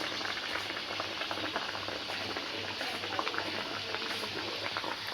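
A pot of water for light, unsweetened black tea bubbles at a steady rolling boil on a kitchen stove, a dense constant hiss and burble heard close and alone.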